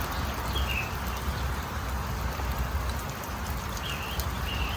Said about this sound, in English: it just has not stopped raining like this literally since about 6 o'clock last night.